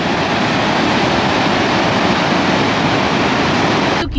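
River water rushing on the hill road from Siliguri to Darjeeling via Mirik, a loud, dense, unbroken roar of fast-flowing water close by, with no voices.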